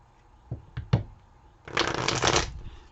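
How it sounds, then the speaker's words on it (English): A few soft taps of tarot cards, then a sustained riffling burst of the cards being shuffled, close and clear with no talking. "let's go ahead and shuffle up these cards"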